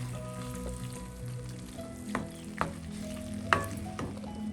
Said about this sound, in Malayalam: ഈ സമയം നമുക്ക് ഉള്ളി എല്ലാം കൂടെ ചേർത്തൊന്ന് മിക്സ് ചെയ്യാം.